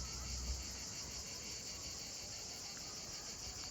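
Cicadas in the south of France, a dense, loud, unbroken high buzzing drone that holds steady with no pauses.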